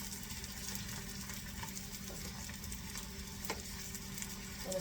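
Onions frying gently in olive oil, a soft, even, continuous sizzle with faint crackles and an occasional stir, heard close but quiet, with no talking.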